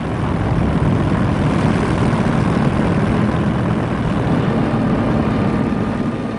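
Droning WWII Luftwaffe bomber aircraft engines hum loud and steady, a continuous close propeller roar with no breaks and no talk.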